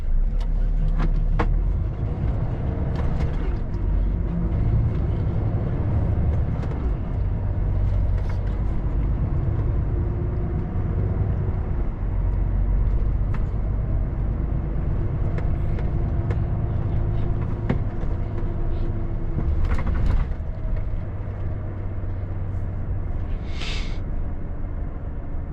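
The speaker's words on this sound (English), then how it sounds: "lot of vehicles manoeuvring up the inside of my vehicle" Night traffic in London heard from inside a truck cab: a continuous low engine rumble with passing vehicles, occasional knocks and clicks, and a brief higher chime near the end, without speech.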